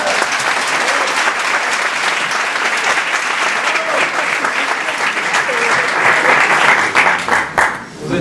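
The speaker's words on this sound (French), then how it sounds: "J'ai un début d'applaudissement" A theatre crowd at the Grand Point Virgule claps before a French comedy show, with thick, continuous applause holding strong throughout and swelling slightly near the end before trailing off.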